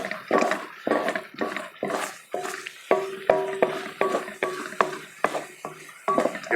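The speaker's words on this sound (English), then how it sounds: "Stir. Give it another minute or so on the fire." Thick milk fudge (pera) is stirred in a pan on the fire: steady rhythmic scraping strokes, about two per second, loud and close, with a grinding, ratchety texture and no voices.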